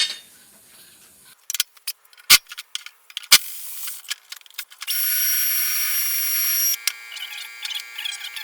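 Scattered metallic clicks and clanks lead into a power drill whirring steadily for a couple of seconds removing a bolt from a Toro TimeCutter SS5060 lawnmower deck, then a few more rattles as it stops.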